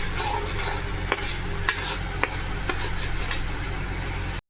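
Eggplant stir-fried in a pan with a spice paste of salt, coriander, chili powder and sugar: a steady close sizzle broken by several sharp scraping strokes of the spatula, with no talking.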